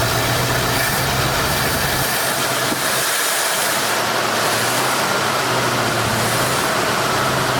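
A 1972 Mercury Montego's engine idles roughly right after starting, its choke held open and carburetor in need of work, giving a loud, close, steady rumble with a fluttery, uneven note and a brief dip midway.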